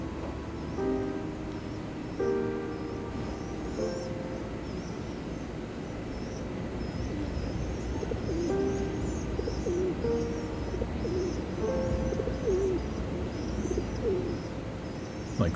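Pigeons near a New York rooftop coop give repeated soft, low cooing calls in short phrases, with occasional chirps over a constant hum of city background noise.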